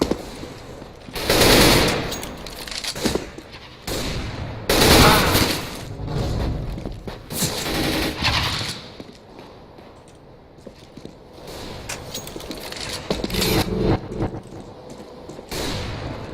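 Bursts of CS:GO gunfire, loud repeated volleys of rapid shots separated by short pauses, with thuds and quieter gaps in between.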